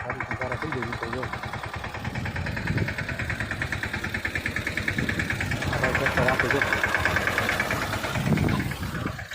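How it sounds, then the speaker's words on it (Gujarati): A tractor engine running in a castor field while ridges are formed, a steady mid-pitched chugging drone that rises and falls slightly throughout. "ટ્રેક્ટર હાલે, આમાં પારી બાંધી લઈ આ રીતના તારા"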